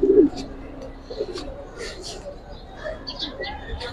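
Pigeons coo softly close by in a pigeon-selling setting, with low murmuring calls and some faint chirps scattered across a few seconds under a man's speech.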